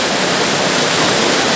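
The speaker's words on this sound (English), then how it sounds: "you'll see this area where there's a waterfall." A waterfall at a waterpower site roars as a constant, loud wash of broadband noise, close and unbroken, with no talk.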